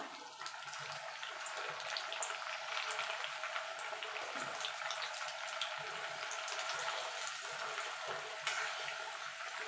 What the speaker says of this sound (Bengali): এইভাবে সব ডালগুলো আমি ভেজে তুলে নেব